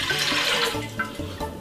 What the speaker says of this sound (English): This glass of water right here, I'm gonna put it straight inside of the pot in the meantime